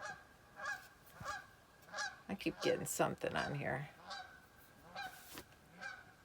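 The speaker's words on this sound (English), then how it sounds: "Those darn geese." Geese honking repeatedly nearby, a noisy flurry of overlapping honks in the middle, while a person talks quietly underneath.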